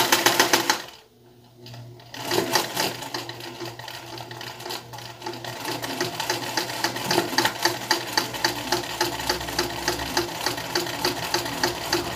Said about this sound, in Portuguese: passa a linha de cima e a sua máquina está pronta para bordar